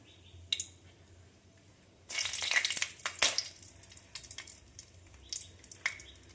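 Dry red chillies, bay leaves and whole garam masala hit hot oil in a wok, bursting into a sudden loud sizzle that fades into crackling and spattering with a few stirs.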